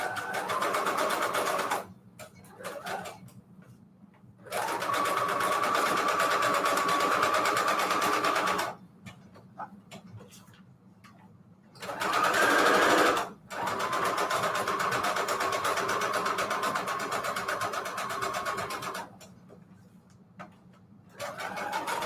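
A sewing machine runs a straight stitch through paper junk journal pages, buzzing in several sustained bursts of a few seconds each with short quiet pauses between them, close and clear.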